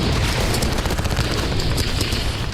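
Rapid, dense gunfire during fighting in Bakhmut, Ukraine, a loud continuous barrage of overlapping shots and booms with no break, close and harsh throughout.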